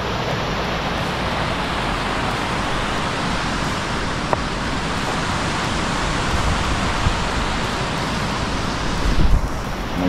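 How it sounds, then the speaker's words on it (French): A small Alpine waterfall rushes in a steady, loud, broadband roar along a mountain hiking trail, constant and close, with no voices. "Jolie petite cascade."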